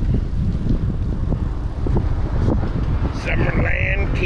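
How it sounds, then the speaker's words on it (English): Wind blows hard across open water in the Florida Keys, a steady buffeting roar over the microphone with the low rumble of motion underneath. "the wind's blowing from the north"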